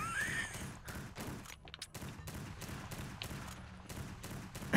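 Rapid bursts of video game gunfire from Lovecraft's Untold Stories, a dense run of repeated shots firing in quick succession at close range with no talk over them.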